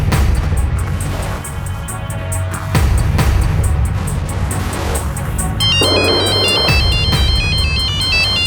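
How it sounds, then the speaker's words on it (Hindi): A phone rings loudly with a repeating electronic ringtone over a background of engine hum and music, with no talk during the ringing. "अंजलि का फोन है।"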